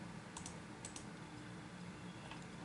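Quiet typing on a computer keyboard while entering Matlab code, with a few soft scattered key clicks close by over a low background hum.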